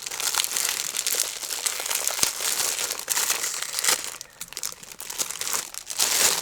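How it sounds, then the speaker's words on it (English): A plastic bag crinkles and rustles close up for several seconds during a shopping haul, in loud, irregular bursts of crackling with no voice over it. "The bag is in. Sorry for the crinkling."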